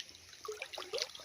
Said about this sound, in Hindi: कुआं के मुंह से पानी निकलता है।